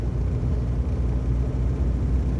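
A Morris Minor climbs a hill in fourth gear at about thirty. Its engine gives a steady, muffled low rumble heard from inside the car, with no voices.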